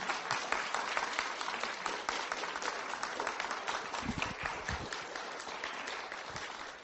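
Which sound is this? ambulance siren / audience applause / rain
audience applause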